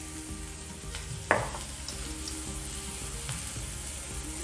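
Chunks of elephant foot yam tipped into a hot pan with chili powder, landing with a sharp thump and splash before a steady broad sizzle of frying continues alone.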